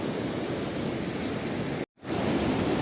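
The Rishi Ganga waterfall near Badrinath roars as a dense, steady rush of falling water, close and constant, broken only by a brief cut of silence before the roar resumes.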